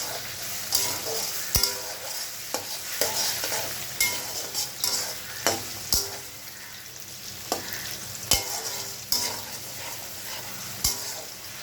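Potatoes fry in oil in a pan while being stirred, a continuous sizzle broken by repeated sharp clicks and scrapes of the spatula against the metal.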